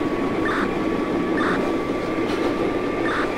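An openBVE simulated subway train pulls out of Brooklyn Bridge station, a steady rumbling rail roar with a faint high tone and periodic short beeping chimes, no talk.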